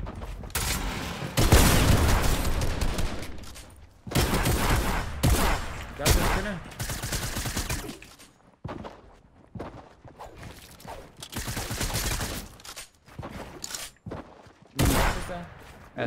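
Proximity launcher fire in Fortnite comes in repeated bursts of shots and mechanical clicks over several seconds, fairly close, with brief pauses between volleys.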